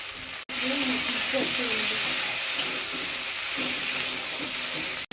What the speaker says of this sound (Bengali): মশলাটা কষানো হয়ে গিয়েছে